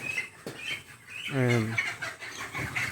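Chickens cluck near and clearly at a farm where birds are being caught and sold, one loud harmonic squawk rising mid-way among several shorter clucks, with faint background noise.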